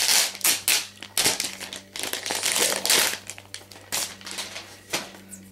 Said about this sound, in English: So let me just undo the packaging.